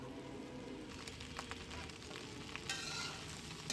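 Cooked rice being stirred in a frying pan for a breakfast snack, with a soft, continuous sizzle and light scraping of a spatula, faint and steady throughout.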